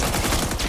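Bursts of rapid gunfire from a police shootout in Batman: Arkham Origins, loud and dense, filling the short moment without any voice over it.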